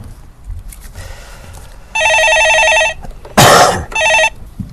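An incoming call rings on a telephone in a stock-market call-in broadcast studio: two loud, evenly spaced electronic ring bursts with a short burst of rustle between them, over a quiet room.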